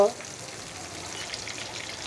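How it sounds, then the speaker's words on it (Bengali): Crushed garlic frying in oil in a pan, a soft, even crackling sizzle heard close up and steady throughout. "এই যে রসুনটা একটু ভাজা হয়েছে"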